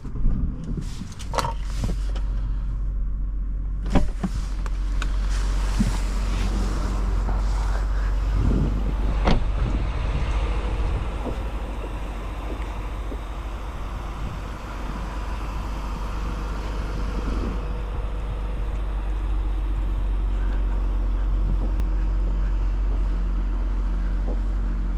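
A 2010 BMW 535i xDrive starts, with a few sharp clicks and thumps at first, then settles into a steady low engine idle beneath faint wind noise, running evenly for the rest of the time.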